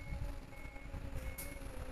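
A bus reverses in Bus Simulator Indonesia. An evenly spaced electronic reversing beep sounds over a low, steady engine rumble, with a short hiss near the end.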